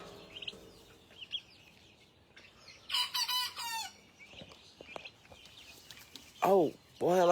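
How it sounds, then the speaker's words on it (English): Three roosters on a porch cluck and crow in short separate bursts, a couple of loud crows standing out near and clear, with quiet talking between them. "The 3 roosters."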